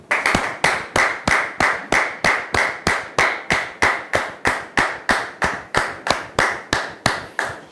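A TV show audience claps in unison to welcome a guest, a loud, strictly rhythmic run of about twenty-five sharp claps at an even pace, with no talking over it.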